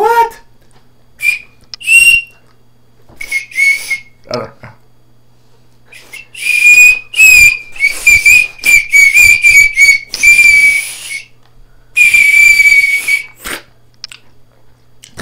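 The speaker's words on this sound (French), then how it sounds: "en plus t'as un sifflet" A strawberry candy whistle blown in a series of shrill, piercing toots, some short and some long, loud and close, with brief talk in between.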